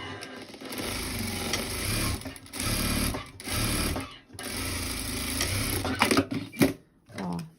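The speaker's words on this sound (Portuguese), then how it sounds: "Vou reforçar minha costura aqui, ó." A sewing machine runs in short bursts while reinforcing a seam on a cloth doll, its close mechanical whir stopping and starting, and someone talks over parts of it.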